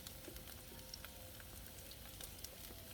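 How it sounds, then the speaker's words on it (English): Ingredients sautéing in a pan of butter and avocado oil give a steady, close sizzle with scattered small pops and crackles, running continuously with no talking. "saute there for a few minutes"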